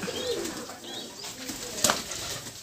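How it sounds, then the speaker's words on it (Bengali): Many pigeons kept in a home loft in rural Bangladesh coo softly and intermittently, with a brief flutter of wings near the end, over a steady background murmur. "অনেক কবুতর আছে এখানে"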